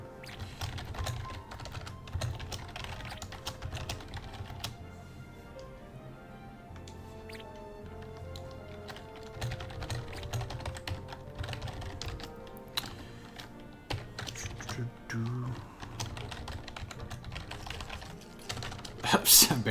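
Continuous typing on a computer keyboard, rapid irregular clicks and clacks at close range, running throughout with soft talk underneath.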